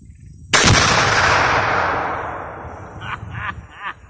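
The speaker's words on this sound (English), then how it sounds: "how did it feel to shoot your first Tannerite?" A rifle shot sets off a Tannerite exploding target in one loud, sharp blast that decays slowly over several seconds, followed by faint shouting.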